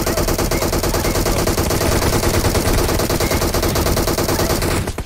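Sustained automatic weapon fire in PUBG Mobile rattles on loud and close for about five seconds in a dense, unbroken stream, then cuts off abruptly near the end.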